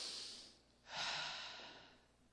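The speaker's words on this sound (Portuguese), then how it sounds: "respire forte agora, respire" A group breathes in deeply and then exhales in a long, soft rush, faint and distant in a large hall during a religious gathering.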